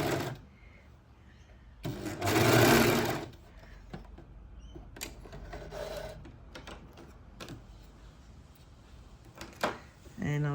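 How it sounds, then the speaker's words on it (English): An overlocker runs along the raw edges of a tote bag's lining fabric in a loud, steady burst of a couple of seconds, followed by quieter handling rustles and brief mechanical clicks. "So I'm overlocking the edges of the lining."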